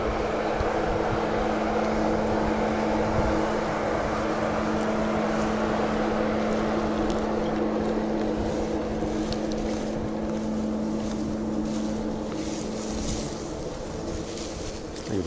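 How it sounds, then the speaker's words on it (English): A fan runs continuously to dry out wheat, giving a loud, steady whooshing drone with a constant low hum that holds unchanged throughout. "Fan is doing its thing here, drying out the wheat."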